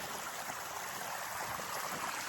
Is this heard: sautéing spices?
no